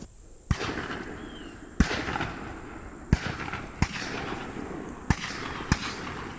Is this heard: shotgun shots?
yes